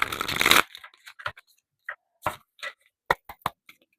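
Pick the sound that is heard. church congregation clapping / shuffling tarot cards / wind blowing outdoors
shuffling tarot cards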